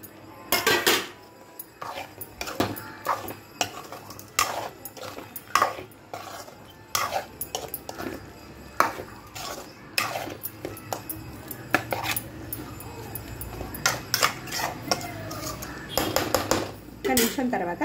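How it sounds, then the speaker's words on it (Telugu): Already-fried brinjal pieces going into a cooking pan for vankai kurma, with a rapid series of close metallic clinks and scrapes of a utensil against the pan, and a voice speaking intermittently throughout. "వంకాయలు వేసేద్దాము."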